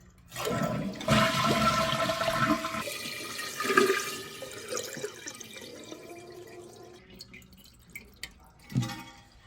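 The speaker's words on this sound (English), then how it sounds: "The next thing you want to do is flush the toilet." A toilet flushes with a loud rushing gush that fades into gurgling, trickling water and a few drips as the tank refills.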